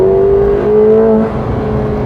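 McLaren 750S engine rising in a short rev as the car downshifts into third, a steady close mechanical whine with climbing harmonic tones for about two seconds, with no voices.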